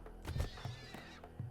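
A horse in the RimWorld video game whinnies in a short, clear neigh, followed by a couple of softer snorts and thuds, fairly quiet and with no voices.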